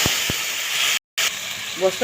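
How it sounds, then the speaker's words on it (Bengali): Sliced onions fry in an oiled pan with a steady, close hiss and sizzle, broken by a short gap, and a voice is heard briefly at the end. "এখন তেলানি দিয়ে নেবো পেঁয়াজ ভাজা হচ্ছে"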